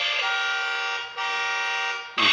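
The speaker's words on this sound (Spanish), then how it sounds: "su claxon" A toy electric ride-on motorcycle, Machuka model 969-17, sounds its electronic horn in two long, steady, buzzy tones with a short break between them, loud and close, and a third tone starts just as the sound ends.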